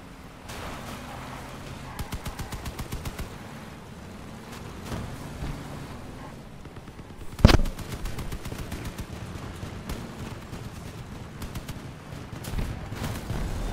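Vehicle-mounted machine guns in the vehicle combat game Crossout, with one gun broken or stuck, rattle in intermittent rapid bursts over engine rumble, with one sharp loud impact partway through.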